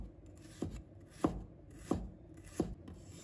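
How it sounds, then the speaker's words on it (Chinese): Four evenly spaced knife chops cut a piece of fresh unpeeled ginger into slices on a cutting board, each one a crisp, close thud in an otherwise quiet kitchen. "再准备1块生姜，把它切成片。"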